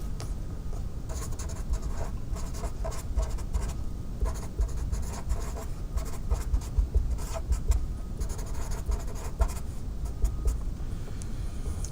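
A pen scratches steadily on a writing surface while someone writes out the chemical symbol for sodium with its charge, a continuous close, dry scraping with no speech.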